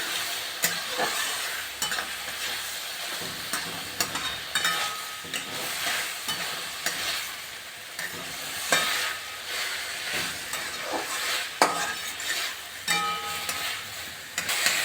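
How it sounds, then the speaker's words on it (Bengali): Mixed vegetables fry in a pan with cumin, green chili and ginger, making a loud, steady sizzle punctuated by regular spatula scrapes and stirring knocks throughout, with no voices. "সবজিটা ভাজা হয়ে গেছে"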